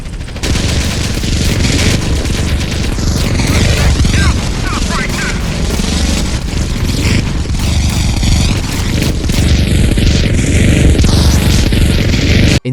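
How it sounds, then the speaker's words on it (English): GTA San Andreas with an FX mod: a dense, cinematic gunfight with continuous loud automatic gunfire, heavy booms of explosions and crackling debris, layered and chaotic throughout with no clear gaps. "The muzzle flashes, smoke, and explosions are way more violent and cinematic. Gunfights now feel completely different"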